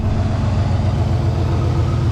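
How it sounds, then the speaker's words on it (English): The engine of a 1963 Pontiac Catalina runs steadily at a close, loud idle, a continuous low mechanical rumble with an even pulse and no talk. "the motor sounds pretty solid, really"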